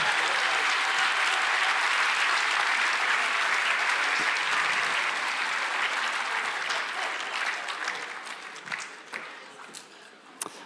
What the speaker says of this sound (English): Everybody, round of applause for Steve and Kai, everybody.